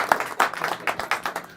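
An audience applauds a volunteer at a magic show, with bursts of clapping coming in uneven pulses for a short stretch. The clapping sounds thin and moderately close.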